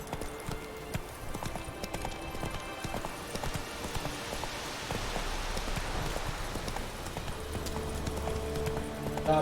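Horse hooves gallop steadily in The Witcher 3, the horse Roach clip-clopping in a fast continuous rhythm over game music, with a brief whinny-like tone and no talk.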